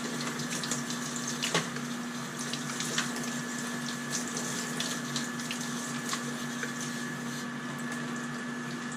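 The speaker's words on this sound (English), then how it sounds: "Just rinse some of the dirt off the side." Running tap water splashes over Fluval 406 canister filter media as dirt is rinsed off, a steady faint stream with a low hum and occasional small knocks, no voices.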